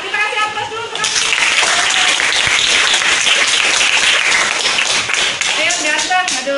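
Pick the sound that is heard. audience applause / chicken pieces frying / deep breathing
audience applause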